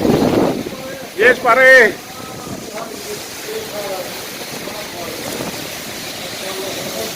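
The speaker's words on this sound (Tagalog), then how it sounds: "nagtatakbo ng mga kalat na kalsada sa lakas ng hangin" Strong wind roars during a sandstorm with rain on a road in the UAE, a steady broadband rush with gusts throughout, while someone talks excitedly over it.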